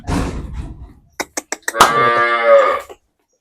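At Bawa dairy in Salabatpura village, a nearby cow gives one long, loud moo after a quick series of four sharp knocks, with a short rustling noise at the start.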